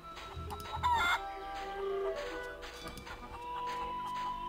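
A cartoon chicken in the point-and-click adventure game The Curse of Monkey Island clucks and squawks loudly in a quick series of calls, over soft game background music.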